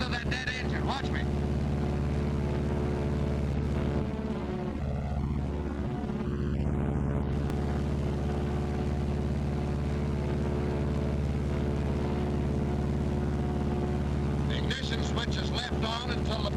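Droning multi-engine roar of a Martin B-26 Marauder in flight, heard from inside as a steady, loud hum with wind noise, while a dead engine is feathered; voices speak over it.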